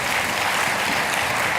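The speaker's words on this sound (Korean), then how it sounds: "우리 다시 한번 큰 박수로 회의합시다." Brief, loud burst of dense applause from a church congregation at a Sunday service, sustained clapping with no gaps.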